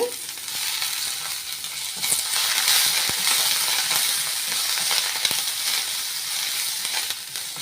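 Curry leaves, mint and coriander fry lightly in a pan for a mutton gravy, giving a steady bright hiss and crackle that swells slightly midway, with a couple of faint clicks and no talking.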